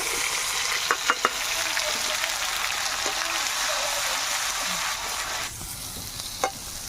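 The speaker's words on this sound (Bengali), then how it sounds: "শুকনো লঙ্কা, তেজপাতা আর মৌরি ফোড়ন দিয়ে বেটে রাখা পেঁয়াজটা দিয়ে দেব।" Onion paste fries in oil with dried chilli, bay leaf and fennel seeds, giving a loud, close, continuous sizzle with a few sharp clinks of stirring; the hiss softens near the end.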